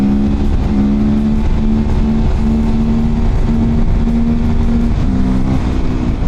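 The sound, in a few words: Sherco 500 supermoto motorcycle revving during a wheelie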